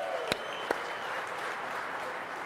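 A round of applause for Joe and his team at a vehicle showcase, a steady roar of crowd clapping punctuated by two sharp, loud claps or bangs early on.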